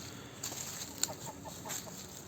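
A small flock of domestic geese, laying females with a gander, gives a few faint, soft honks and clucks over quiet outdoor background noise, including one brief sharper note.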